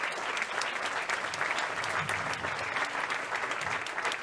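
A hall audience applauds the president of a short-story contest at its prize ceremony, a thick, steady wash of many hands clapping continuously and fairly close throughout.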